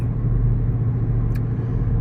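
A car engine in seventh gear gives a steady, close low rumble and drone for the whole stretch, with no talking.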